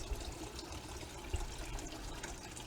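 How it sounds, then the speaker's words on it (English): Water splashing and trickling from a small backyard garden fountain, a soft steady babble with a couple of faint drips, heard alone. "Then we have this water here, water fountain that brings a lot of birds, and it has a beautiful sound."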